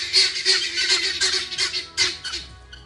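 Farm birds, geese or other fowl, squawk and honk loudly and continuously while being chased, a dense overlapping clamor of calls up close.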